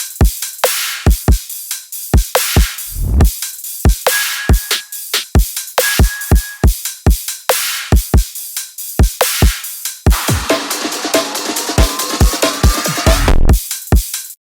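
Electronic drums from a remix drop with a snappy kick: punchy kick hits in a steady pattern with crisp hi-hats and snares, and a bright noisy build of cymbals and texture near the end, loud and alone with no voices.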